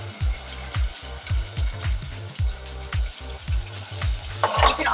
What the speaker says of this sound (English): our onions are getting nice and toasty